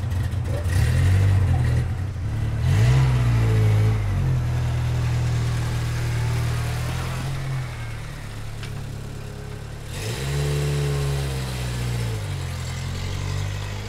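A car engine runs steadily and loud nearby, rising in pitch with a couple of revs, around the middle and again near the end.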